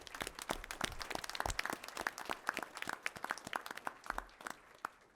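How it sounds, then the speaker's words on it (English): Scattered applause at a school board meeting for staff at Freedom, a small group clapping with clearly separate, crisp hand claps, fairly close and steady for several seconds, no voices. "Give another round of applause, everybody at Freedom there."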